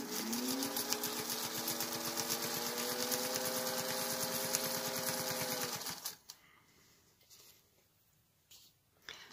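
A sewing machine quilts a placemat, running loud and fast in a steady whirring stitch for about six seconds before stopping, leaving faint handling noises.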